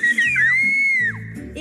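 A person whistling a short sliding tune, loud and close, with some brief vocal or background murmurs underneath.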